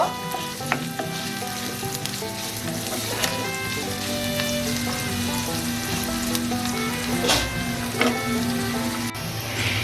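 Onions, about one and a half cups, frying in oil toward golden brown for a traditional Bengali chicken polao, a steady dense sizzle and crackle throughout with a faint stirring scrape now and then, close up with no talking.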